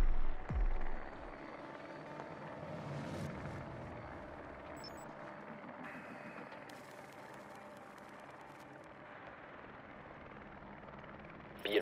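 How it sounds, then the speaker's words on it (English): A drone in a video game flies with a steady whirring, rotor-like hum that holds at a moderate level throughout, starting with a brief heavier thump. "Be advised, your drone has located a bomb."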